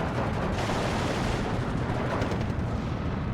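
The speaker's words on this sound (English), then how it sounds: "MG34 getting in on the action from Super Shed here" MG34 machine gun fire in a WWII strategy game, a continuous dense rattle of rapid shots layered with distant battle booms, steady and loud throughout with no talk.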